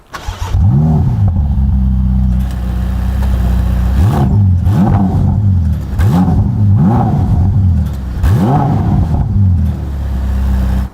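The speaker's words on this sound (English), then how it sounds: "Starting with the F8 Spider, completely stock standard exhaust, nothing done to it. Let's see how loud it is." A Ferrari F8 Spider on its stock exhaust starts and revs hard repeatedly, four or five loud rising-and-falling blips over a steady idle, very close and alone.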